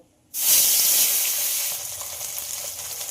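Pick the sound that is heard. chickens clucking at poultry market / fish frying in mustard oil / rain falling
fish frying in mustard oil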